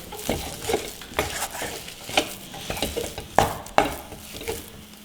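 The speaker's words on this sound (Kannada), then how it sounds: "ಪೇಸ್ಟ್ ಹಾಕಿಬಿಟ್ಟು ಒಂದು ನಿಮಿಷ ಈ ಥರ ಮಿಕ್ಸ್ ಮಾಡ್ತಾ ಬೇಯಿಸ್ಕೊಂಬಿಡೋಣ" Ragi paste with dates and figs is stirred while it cooks in a pan, with repeated rhythmic scraping strokes over a soft sizzle, close and clear, without talk.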